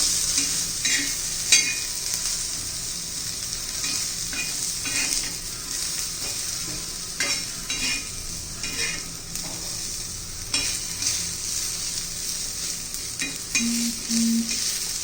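Spiced garlic sautéing in oil in a pan, a steady close sizzle with repeated stirring scrapes and occasional utensil taps against the pan, continuous throughout.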